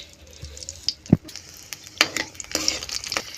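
A green chili hits hot mustard oil as a tempering in a pan: soft crackling sizzle with a few sharp clinks and stirring scrapes, close and alone without talk.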